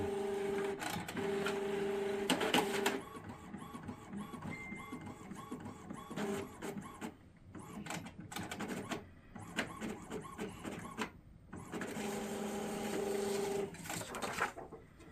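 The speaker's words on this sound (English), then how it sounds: "so we'll press OK, print the nozzle check" An Epson ET-7700 inkjet printer prints a nozzle check, its print head carriage whirring back and forth in repeated passes with clicks and mechanical shuttling, steady and close.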